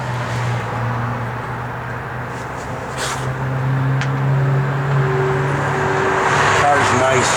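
A 1972 Chevrolet Nova SS engine idles with a steady low hum that rises slightly later on, while people talk over it.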